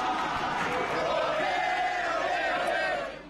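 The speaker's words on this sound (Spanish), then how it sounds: "Otra ovación para el goleador." A football stadium crowd at a Boca Juniors match roaring in a sustained ovation for the goalscorer, a broad, steady wall of cheering that fades out at the end.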